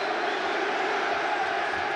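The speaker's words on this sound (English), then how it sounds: "The crowd getting behind the champion now." A boxing crowd roars steadily behind the champion, Chris Eubank, in his fight against Gary Stretch: a dense, continuous wash of arena noise that stays loud and even throughout.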